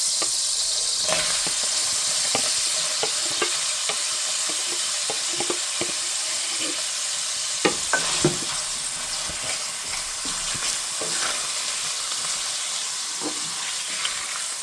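Onions sizzling in garlic-flavored oil, a constant bright crackle with sharp stirring knocks and scrapes of a spoon against the pan, close and fairly loud without speech.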